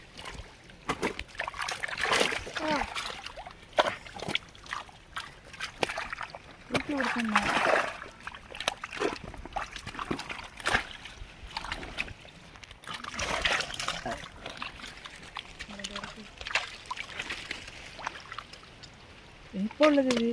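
Viral fish thrash in a muddy village pond during fishing, making repeated irregular splashes and sloshes of water, some sharp and close, with voices talking throughout.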